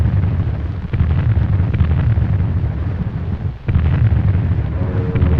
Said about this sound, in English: The covering bombardment began at dawn, the big stuff letting go with a roar